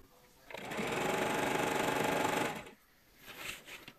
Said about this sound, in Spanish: acá estoy cosiendo